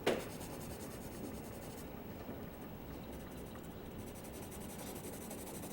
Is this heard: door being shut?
no